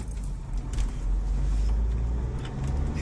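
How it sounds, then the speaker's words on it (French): A remapped Chevrolet Captiva 2.0 TDi diesel, tuned from 150 to 190 hp, pulls hard under acceleration. A loud, steady low engine drone and road rumble continue throughout with no pauses. "Et là on voit que ça part beaucoup plus fort que sur la vidéo d'avant"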